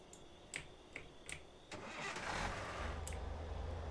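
Car engine starting in the video game Thief Simulator: a few sharp clicks of the ignition, then the engine catches and settles into a steady low rumble, heard alone without talk.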